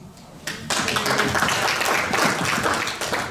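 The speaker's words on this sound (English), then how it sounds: "Round of applause" A room full of people claps, the applause starting suddenly and continuing as a dense, steady patter.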